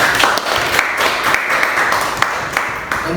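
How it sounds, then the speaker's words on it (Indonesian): A class of students applauding together in a classroom, steady close clapping with a few sharper individual claps throughout, heard alone. "Aplaus untuk kita semua."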